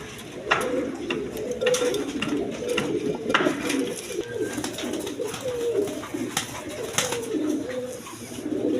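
Large Rajgolla pigeons cooing among other pigeons for sale: repeated low, rolling coos from several nearby birds, with occasional sharper wing or foot sounds and no talk.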